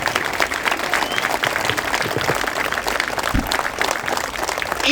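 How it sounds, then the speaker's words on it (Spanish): Loud, close applause from a live audience at a Mexican clown comedy show, a dense sustained patter of many hands clapping without pause, with faint cheering mixed in. "Regálale un fuerte aplauso."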